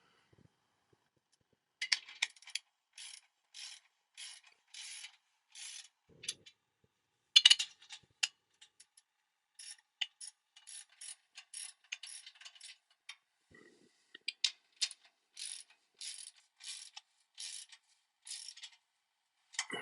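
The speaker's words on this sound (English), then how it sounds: "as I will now wrench it" Bursts of quick metallic ratcheting as a wrench tightens the front tow hook bolts on a 2022-2024 Toyota Tundra, in short irregular runs separated by pauses, faint and close.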